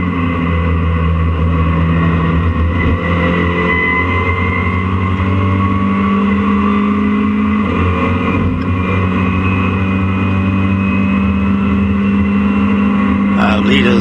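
Caterham racing cars at Donington circuit, engines droning steadily and loudly with a shifting pitch as they pass and change gear, a commentator talking over the continuous motor noise.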